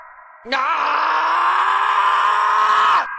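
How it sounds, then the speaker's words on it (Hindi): A single long, loud, wailing scream rises abruptly and holds for about two and a half seconds before cutting off. "रात के सन्नाटे में अचानक एक भयानक चीख गूंजी।"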